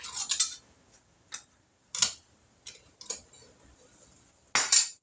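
A can of cherry pie filling being opened with a can opener in a kitchen, giving a series of short, sharp metallic clicks and scrapes in separate bursts, close and fairly loud, with quiet gaps between them and no talk.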